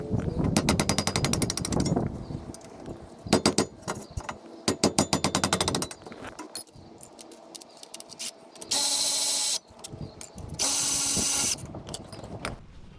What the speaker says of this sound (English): Removing the caliper mount, there's two bolts, one here and one there.